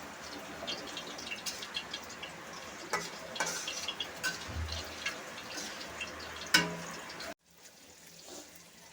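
Hilsa fish heads added to a Malabar spinach curry simmering in a pan, giving soft bubbling and sizzling with light ticking stirs and a brief low thud, quiet and close, ending abruptly.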